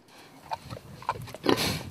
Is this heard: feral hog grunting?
yes